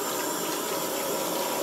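Water runs steadily from a tap while hair dye is rinsed out, a continuous close rushing splash with no talking.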